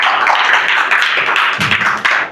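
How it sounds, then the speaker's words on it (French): A church congregation applauds loudly, giving a dense, steady wash of clapping in the hall that continues without pause. "Donner une acclamation au Seigneur Jésus-Christ."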